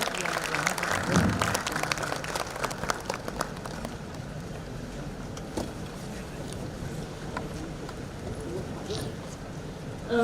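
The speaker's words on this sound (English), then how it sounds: "Can we all give a big round of applause" Applause from the audience at a hackathon event welcomes a police commissioner, a dense, noisy wash of clapping that runs steadily for about ten seconds with a fairly even level throughout.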